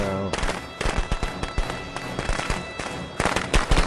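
Firecrackers thrown in the Friday the 13th video game pop in a rapid, crackling string of sharp bangs that keeps going throughout, with a voice speaking over the noise.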